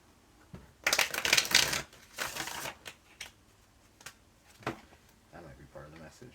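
Tarot cards are shuffled during a reading. The quiet riffling comes in a couple of short papery bursts followed by softer card slides, with speech at low level in places.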